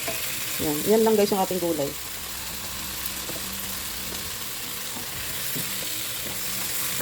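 Milkfish soup sizzles steadily in a pan as okra and chili peppers are sautéed, a soft, continuous frying hiss with light stirring. Someone talks briefly over the sizzle at the start.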